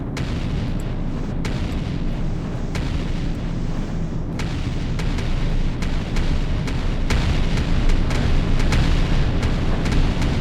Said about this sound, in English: A lot of rockets up in the air.